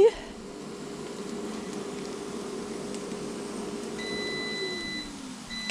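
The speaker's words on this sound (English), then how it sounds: "Okay, our biscuits are done and they're beeping." An oven timer on a home kitchen stove, signalling that the breakfast biscuits are done, sounds a thin, steady electronic beep that holds for a few seconds. It sits over a quiet room hum, with no one talking.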